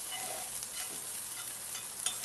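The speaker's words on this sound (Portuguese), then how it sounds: "dourar perfeitamente essa barriga de porco, sem que ela perca muito da sua gordura" Pieces of pork belly fry in a very hot pan with a little added oil, giving a steady, crackling sizzle with small pops throughout and no talk.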